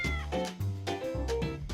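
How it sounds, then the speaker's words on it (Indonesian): A domestic cat meows close to the microphone, giving two or three drawn-out, wavering cries in quick succession, alone and clear. "Felis Silvestris Catus alias kucing alias ucing"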